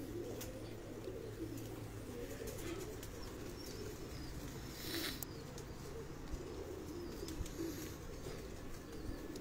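Soft pigeon coos repeat under a steady outdoor hum, with a brief flutter of wings partway through.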